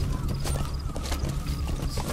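In the Metal Gear Solid 5 video game, D-Horse gallops with a steady, fairly loud clatter of hooves that runs continuously over a low background rumble, and no one speaks.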